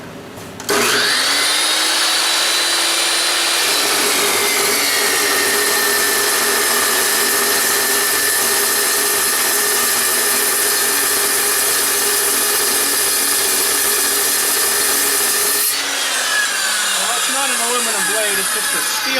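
A saw blade cuts through a solid piece of aluminum, a loud, steady, high-pitched whine and screech held for about fifteen seconds before stopping abruptly.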